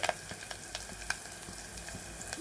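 Curry leaves sizzling in hot ghee for a ridge gourd curry, a soft continuous frying crackle with faint stirring clicks, no talk.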